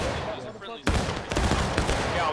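Musket volleys from soldiers in the Civil War game War of Rights, a sudden loud burst of overlapping shots followed by a second ragged crackle, dense and close, with commands and chatter in the background.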